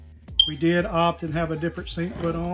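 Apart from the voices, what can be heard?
smoke alarm beeping for low battery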